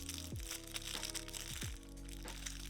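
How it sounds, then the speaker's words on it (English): A Little Debbie holiday snack wrapper crinkles and crackles close up, with repeated crisp crunches over about three seconds; no talking. "I'm sorry if the crinkling's loud."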